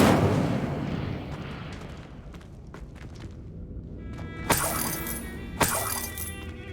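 Incendio fire spell cast in the Hogwarts Legacy video game, a muffled whoosh followed by two sharp crackling bursts over low game ambience.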